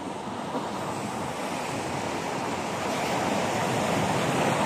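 Strong surf pounds the shoreline at Baliguian, Zamboanga del Norte, after Typhoon Tino. The roar of crashing water is loud and continuous, with wind buffeting the microphone throughout.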